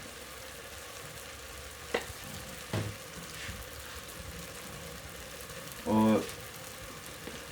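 Sliced turnip stir-frying in a pan with salt and turmeric, a steady low sizzle throughout, a few spoon or pan knocks, and a brief spoken word near the end over the frying.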